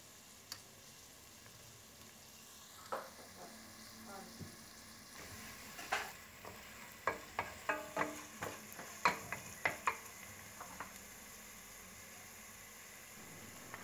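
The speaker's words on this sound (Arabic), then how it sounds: "منلوح البصل كم تلويحة لحتى يشقر شوي، ما بدنا نحرقه." Onions frying in a hot pan for a potato dish, a soft steady sizzle with a series of sharp scraping and clinking stirring strokes growing busier midway, close by, with no talking over it.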